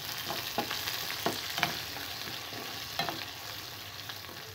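Tempering seeds, dried red chillies, curry leaves and garlic fry in hot oil with a steady sizzle, broken by occasional crackles and pops. No one speaks.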